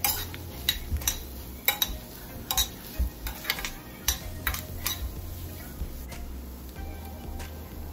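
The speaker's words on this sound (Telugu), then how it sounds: "మిక్స్ చేసుకుంటున్నాను మంచిగా." A spoon scrapes and taps in a pan while carrot, capsicum and onion are stir-fried, a run of sharp irregular metallic clinks over a low steady hum.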